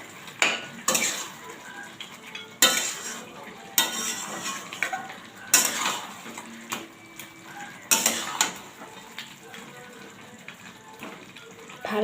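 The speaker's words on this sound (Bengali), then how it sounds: "তো মাটনটাকে ভালো মতো কষাবো।" Mutton frying with chilli paste and spices in a pan, stirred with metal utensils in repeated scraping bursts every couple of seconds over a steady sizzle, with faint talk in the background.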